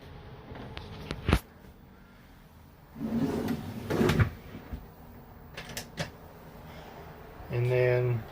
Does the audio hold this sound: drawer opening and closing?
yes